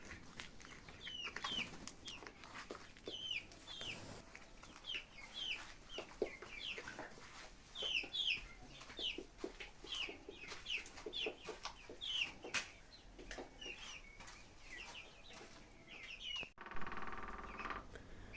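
Many chicks and hens cluck and cheep busily nearby, a constant chatter of short, overlapping calls with rustling in the background.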